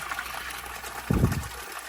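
Brown water from a dirty fish tank filter is pumped out, a soft close trickle and splash with a brief louder gush near the end.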